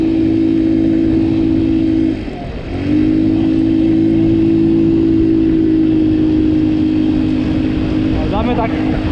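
A modified scooter engine holds a steady drone at half throttle, loud and close, dipping briefly near the two-second mark before settling back into a continuous buzzing run.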